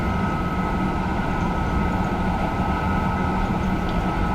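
A TGV high-speed train runs in a train simulator game, giving a steady, dense rumble and whoosh with a constant tonal hum, unbroken throughout and fairly loud.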